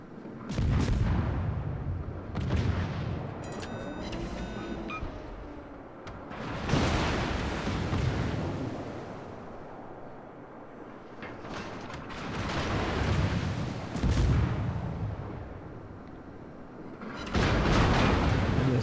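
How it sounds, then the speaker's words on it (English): Heavy naval cannon fire from World of Warships ships, including the Italian cruiser Nino Bixio and the enemy Dresden, booms in several loud, rumbling salvos spaced a few seconds apart, with creaking mechanical noise between the blasts. "Dresden is still firing at me"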